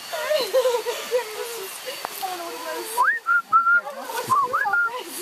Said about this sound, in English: Is that the work whistle? Listen. What's that whistle?